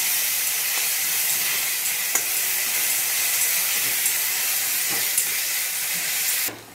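Chopped tomato fries on high heat in a pan for an eggplant dish, giving off a loud, continuous steamy sizzle and hiss that cuts off abruptly just before the end.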